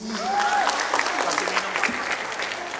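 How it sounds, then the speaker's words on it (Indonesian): Studio audience applause welcoming Indonesian fisheries minister Susi Pudjiastuti onto a talk show, dense clapping throughout with a faint voice briefly rising over it. "Tepuk tangannya dulu semuanya"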